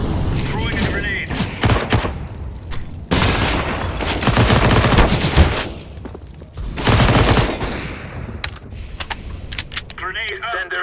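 Sharp, loud bursts of Call of Duty Warzone gunfire, explosions and a thrown grenade come in clusters separated by short lulls, with players calling out over the noise.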